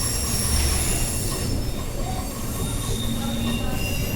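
A three-car Perth suburban train's wheels squeal in a sustained high shriek as it switches tracks near East Perth, over a continuous loud rumble of the carriages.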